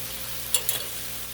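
Chicken thighs browning on a Blackstone griddle with a little cayenne give a faint, steady sizzle, broken by two brief scraping clicks of a spatula turning the meat.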